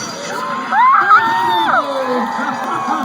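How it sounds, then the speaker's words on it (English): Crowd at a motocross event at Myrtle Beach Speedway cheering and whooping, swelling in a loud burst partway through and then holding steady, with an announcer's voice mixed in. "All right, the crowd's getting louder."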